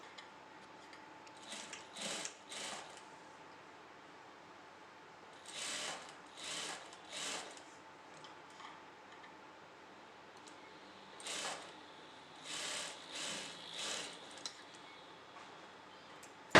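A sewing machine stitches a blouse lining at a shoulder seam in short bursts of mechanical whirring, about seven runs in two clusters separated by quiet pauses, fairly close and with no talking.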